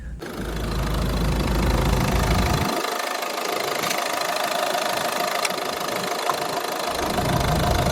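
A Peugeot 508 engine cranks and catches, then settles into a steady, loud idle with a constant mechanical hum close by.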